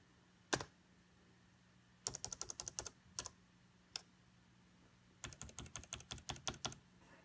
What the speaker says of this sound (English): try to type in the number here